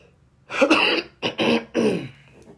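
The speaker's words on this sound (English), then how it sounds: "The cough sounds worse than it is" A few harsh, close coughs in quick succession, the first a longer hacking burst followed by two shorter ones.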